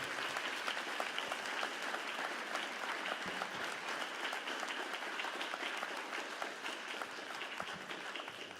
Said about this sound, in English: someone that should get a big round of applause for making this happen, the Honorable Larry Glick